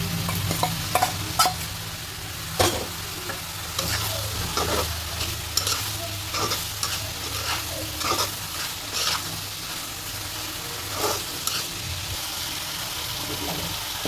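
Potatoes being stirred and fried in a pan during home cooking, with a steady sizzle and repeated scraping strokes of the spoon throughout, fairly close and with no talk.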